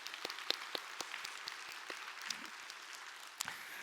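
Applause in a church congregation, a steady wash of clapping with a few sharper individual claps standing out, moderately quiet and fairly distant, with no talk over it.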